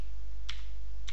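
A computer keyboard clicks in two short bursts of keystrokes while code is typed, heard close against a steady low hum.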